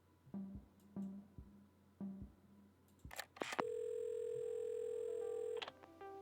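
In the video game Assemble With Care, a telephone handset is picked up with a few soft clicks and handling sounds, then a steady electronic dial tone hums clearly for about two seconds before cutting off.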